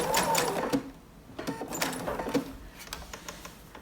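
Sewing machine stitching an elastic waistband, its needle chattering in short bursts with brief pauses between runs as the fabric is stretched, close and fairly loud.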